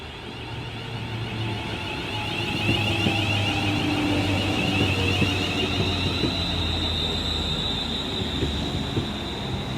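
London Midland Class 350 Desiro electric train running through Winsford station on the West Coast Main Line, a steady loud rumble of wheels and motors with a faint whine, sustained throughout.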